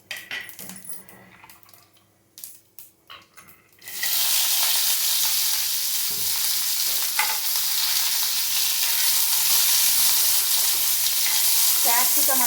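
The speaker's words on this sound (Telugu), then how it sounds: "కరివేపాకు, ఇవి కొంచెం లైట్గా రోస్ట్ అయిన తర్వాత క్యాప్సికమ్ వేసేసుకోండి" Capsicum tossed into hot oil with cumin and roasted curry leaves for capsicum rice: a few quiet clinks and stirs, then a sudden loud, steady frying hiss that keeps going, close up with occasional utensil scrapes.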